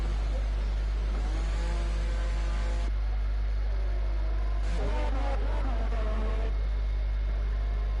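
Racing car engines in a sim racing video game at a Brazil round: a steady engine drone with revving swells and a car passing, heard over a low constant hum.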